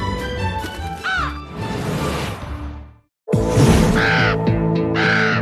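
Several crows caw loudly in a documentary about ravens and crows, harsh calls ringing out over a busy backdrop, then after a brief drop to silence a fresh run of caws sounds close alongside a swooshing rush.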